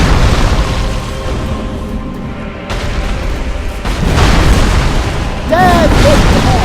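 A heavy booming blast from a sword weapon art in Dark Souls 3 during the Yhorm the Giant fight, several deep rumbling bursts with game ambience and spoken commentary over them.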